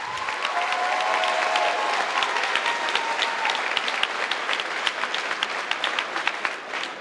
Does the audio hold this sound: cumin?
no